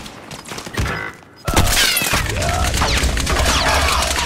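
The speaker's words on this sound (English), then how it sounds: "I don't know who's shooting me on the right." Gunfire in the video game Warzone, a loud sustained burst of rapid shots and crackling impacts after a brief lull, dense and close, with no talking over it.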